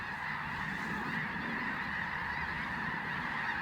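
A flock of snow geese flying overhead honks continuously in a dense, steady chorus, fairly distant, with no talking.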